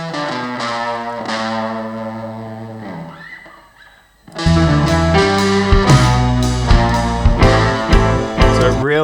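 A dirty, distorted instrument runs through a small Fender Mini Deluxe amplifier, playing loud sustained tones that fade out, then a brief quiet stretch before a fuller, heavier passage surges back in, with no voices.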